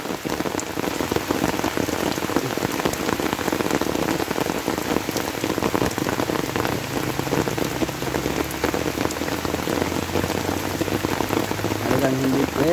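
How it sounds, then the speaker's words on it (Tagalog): Steady heavy rain falls on a rural provincial road and surroundings, a dense continuous patter with no pauses, loud and close throughout, with faint low rumbling traffic in the background. "Maulan talaga."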